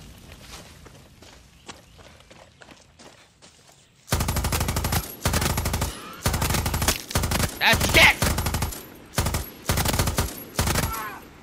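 Rapid bursts of gunfire from a gun in Far Cry 6 ring out loud and close in repeated volleys, after a quieter stretch of faint clicks and footsteps.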